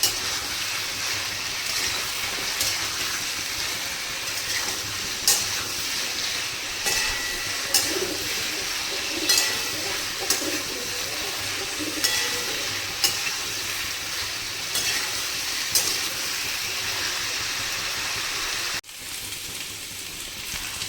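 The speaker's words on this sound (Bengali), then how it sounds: "আলু আর পেঁপেটার লালচে রং আসা পর্যন্ত এটাকে ভেজে নিতে হবে" Potato and papaya pieces fry in a wok for a mixed vegetable dish, a continuous close sizzle with regular spatula scrapes and stirs recurring every couple of seconds, and no talking.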